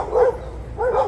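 Dogs bark twice, two short, fairly loud woofs nearby, spaced under a second apart against steady background noise.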